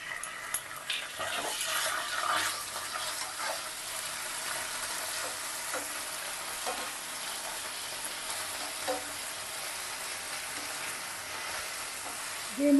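Masala with grated ginger and tomato ketchup sizzles and fries in a pan for a kofta curry, a continuous crackling hiss with occasional stirring scrapes, close and moderately loud, without speech.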